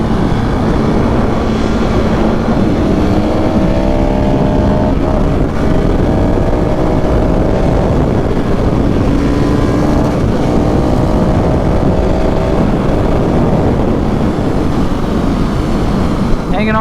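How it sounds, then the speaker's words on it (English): A KTM 690 SMCR motorcycle engine is held high on the rev limiter on a back road, giving a loud, continuous droning roar with wavering pitch and constant wind rush that masks everything else. "Hanging on to the rev limiter there, baby"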